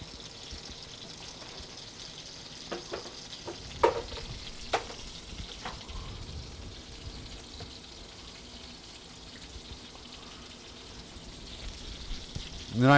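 Cod fillet seasoned with Creole seasoning frying in a pan, a soft continuous sizzle with a few sharp clinks and knocks of utensils scattered through, fairly quiet overall.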